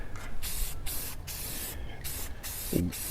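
Aerosol spray paint goes onto a Harbor Freight trailer in light coats, as short, close hissing bursts separated by brief pauses.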